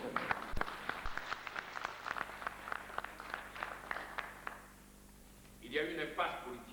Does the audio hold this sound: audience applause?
yes